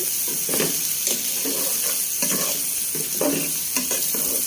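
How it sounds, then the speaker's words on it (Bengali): Chili powder and spice masala stirred and sautéed in a pan for a liver bhuna, a steady broadband sizzle with repeated scraping strokes of the spoon at a close, even level, with no talking. "মরিচের গুঁড়া ভালো করে নেড়ে দেবো মশলাটা খুব সুন্দর করে কষিয়ে নিচ্ছি"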